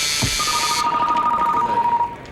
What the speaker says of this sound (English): I think we had a buzzer first,